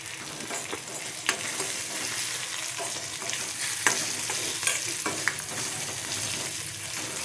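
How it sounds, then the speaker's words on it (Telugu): Chillies with a pinch of salt sizzle and crackle in hot oil for a tempering, a dense steady hiss with occasional sharp pops and stirring scrapes. "మిరపకాయలు వేగేటప్పుడు కొంచెం సాల్ట్ వేసుకున్నాము"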